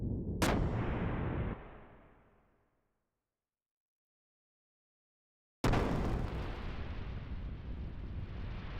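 Artillery from a warship in Xenogears, a mecha video game, booms twice: a loud blast that decays into silence, then a second heavy roar that keeps rumbling on.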